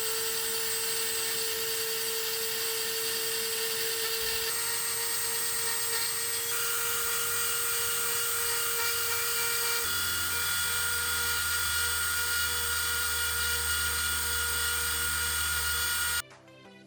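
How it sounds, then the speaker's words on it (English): Dremel rotary tool with a carving tip running at full speed against wood, a steady high-pitched whine with a shifting tone that holds for about sixteen seconds and then stops. "when I carve them, I just keep the Dremel on full speed"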